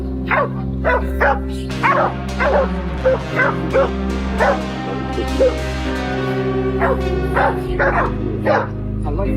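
A pack of bay dogs chasing a wild boar barks and yips continuously, with overlapping rapid barks and whimpers over a loud low rumble, some dogs nearer and others farther off.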